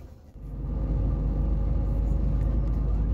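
A tour bus heading back to Incheon Airport rumbles steadily from the inside, its low engine and road drone rising in the first half-second and then holding loud and continuous.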